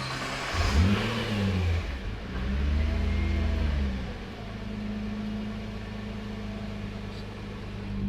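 A rebuilt Nissan GT-R engine cranks and fires up, revving twice with rising and falling tones before settling into a steady, moderately loud idle hum, with no voices.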